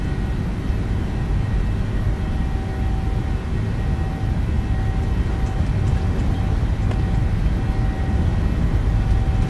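A steady, loud roar from airliner engines at takeoff power in Microsoft Flight Simulator 2020, a constant broadband rumble with a faint high whine that holds without a break.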